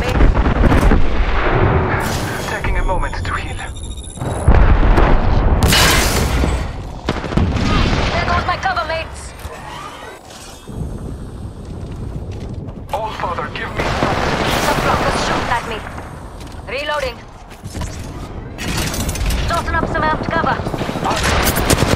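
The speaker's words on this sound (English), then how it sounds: "Getting shot at." Gunfire in a battle royale match of Apex Legends, with dense, heavy bursts of shots and booming impacts throughout, loud and close, broken by brief lulls, with a voice speaking at points.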